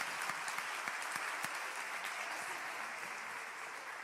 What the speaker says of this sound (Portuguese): Gente, vamos aplaudir esses homens.